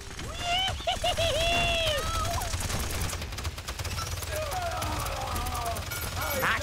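Gunfire in the video game Paladins crackles in a dense, continuous barrage throughout, mixed with whistling tones and other game effects, with voices talking over the action.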